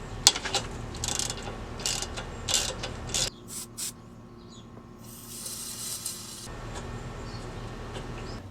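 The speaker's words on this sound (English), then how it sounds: "This is a 12mm socket. So we can get this loosened." Ratchet wrench with a 12mm socket loosening a bolt while installing a leveling kit on a Honda Ridgeline, giving bursts of quick clicking strokes in the first few seconds, then quieter mechanical handling and a brief hissing spell.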